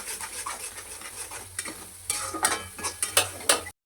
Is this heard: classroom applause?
no